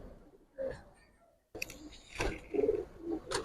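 Giribaz tournament pigeons coo in short, low bursts inside their loft, with a few clicks and a brief pause before the calls resume nearby.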